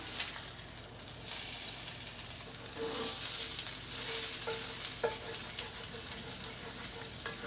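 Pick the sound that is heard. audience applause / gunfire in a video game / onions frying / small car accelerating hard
onions frying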